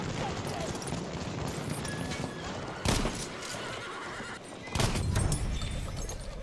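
Cavalry horse in the World War I shooter Battlefield 1 gives a loud whinny amid in-game gunfire, hoofbeats and battlefield noise, with players talking over it.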